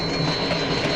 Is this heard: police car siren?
no